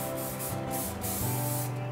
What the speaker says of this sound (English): I'm going to spray it on my hair from a distance